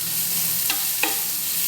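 Onions frying in oil for a masala egg fry, a steady close sizzle with two brief stirring scrapes partway through, no voices.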